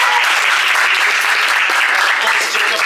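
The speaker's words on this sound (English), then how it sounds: "I want you to give a round of applause to Saul Arellano" Crowd applause at a political rally for Brandon Johnson and district council candidates, a dense, steady wash of clapping held at full strength throughout, loud and close with cheering mixed in.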